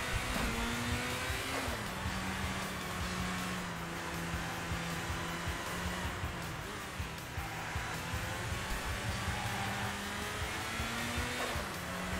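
Race car engine in the video game Sega GT, revving high and steady with repeated gear-change dips and climbs in pitch, a loud, continuous whine heard alone.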